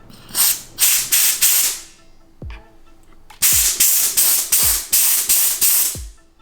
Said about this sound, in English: I'm gonna steam my first wedding band